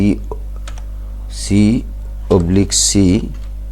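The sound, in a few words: typing on a computer keyboard while coding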